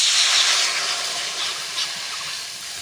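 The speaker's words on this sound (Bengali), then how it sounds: "কড়াতে দিয়ে দেব জল।" Water poured into a hot wok on a stove hisses and sizzles as steady broad steam noise, loud and close, easing slightly over a few seconds.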